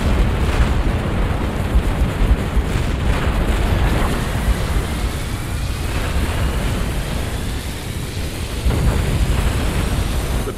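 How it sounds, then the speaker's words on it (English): Units fire on a Scarab in the Halo Wars video game, producing a dense, continuous wall of explosions, booms and weapon fire that stays loud for the full stretch. "I'm going to select everything I have and get it to fire at that Scarab."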